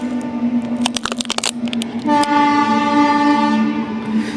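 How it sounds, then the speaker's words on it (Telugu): A long goods train rolls past on a railway line near the Borra Caves, loud and close, with rattling wagons and a sustained horn blast partway through. "ఇదిగోండి ట్రైన్ వెళ్తుంది చూడండి"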